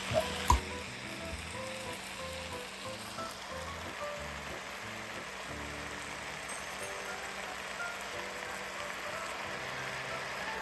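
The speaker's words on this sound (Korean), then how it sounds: "자 이제 달달 볶아주면 됩니다" Seaweed stir-frying in a pan with soy sauce for Korean seaweed soup, a steady close sizzle with a couple of sharp knocks at the start and no talk.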